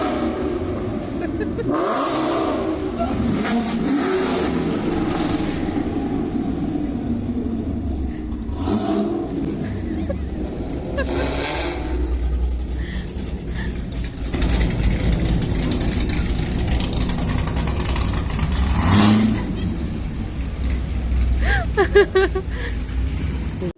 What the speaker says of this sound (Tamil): அவர் என்னம்மா டுர்ருன்னு போகிறாங்க, இதுதான் கார் ஷோவா அப்படின்னு கேட்டாரா